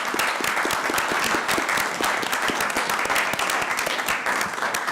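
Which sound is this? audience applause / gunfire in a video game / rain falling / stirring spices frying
audience applause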